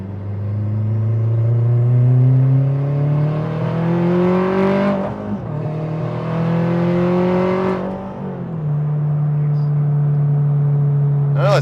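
A turbocharged 8th-generation Honda Civic revs hard and loud, its engine note climbing steadily over several seconds, dropping briefly at a shift, then rising again and settling into a sustained high drone with no talk over it.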